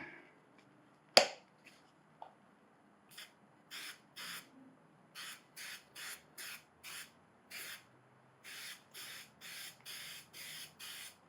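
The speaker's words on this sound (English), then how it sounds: "I'm actually going to spray some of this adhesive on it" A sharp click, then a series of short hissing bursts of adhesive from a spray can onto jon boat flooring, each lasting about half a second, coming in a quick regular rhythm.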